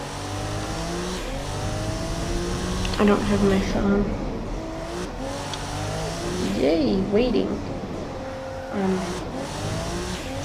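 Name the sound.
car accelerating on a test track in the video game Automation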